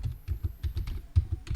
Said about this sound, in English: That's too much typing.